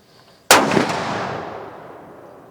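A single loud gunshot with a sharp crack and a long, fading echo trailing off over a couple of seconds, as from a big-bore rifle or handgun on an outdoor range.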